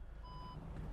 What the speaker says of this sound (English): I've got parking sensors of course. Put it into reverse